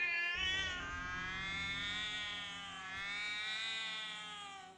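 An in-game alarm in the Twisted Wonderland video game that mimics a screeching cat: a continuous, wavering, high-pitched yowl that rises and falls, loud and alone for several seconds.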